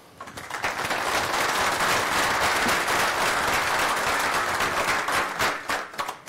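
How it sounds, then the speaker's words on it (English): Warm audience applause at a PostgreSQL conference talk welcomes the speaker, swelling quickly into a dense, steady wash of clapping from a large crowd and tapering off at the end. "give him a warm applause, please"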